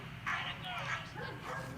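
A 14-month-old Great Dane, a mastiff breed, lets out a few nearby barks and yips mixed with talking, in an outdoor setting where dogs are trained for defense drive and bite work.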